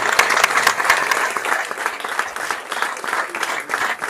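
Audience applause at a press conference for a boxing gala, a lively mix of many hands clapping with uneven, fluttering rhythm, moderately loud and continuous throughout the few seconds.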